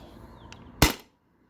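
A single sharp pop from a modified Sabre 68 paintball marker powered by a CO2 tank, fired through a chronograph, one loud close crack after a soft click, followed by silence.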